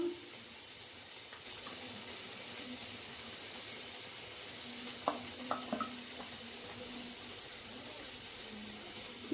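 Turmeric and coriander powder going into a hot pan give a faint, steady sizzle and hiss, with a few soft clicks of stirring around the middle, quiet with no voices.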